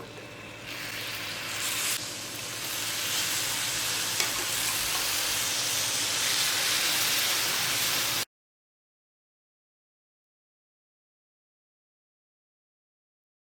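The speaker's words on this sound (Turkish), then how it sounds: "Hemen sıcağıyla soğumuş olan şerbetimi döküyorum." Cooled syrup is poured over a hot walnut şöbiyet pastry, giving a loud, even hiss and sizzle for about eight seconds before abrupt silence.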